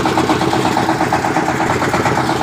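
Pumpset engine running close by with a loud, steady chugging throb and pulsing vibration, alone without talk.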